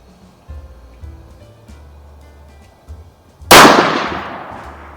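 A single loud, sharp rifle shot from a Savage B-Mag in .17 WSM at an outdoor range, fired after a few quiet seconds of faint background noise and leaving a short decaying echo.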